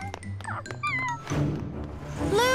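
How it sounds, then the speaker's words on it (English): A cartoon cat meows several times in quick, high, bending calls, close and clear over light background music. "Hi, little cat."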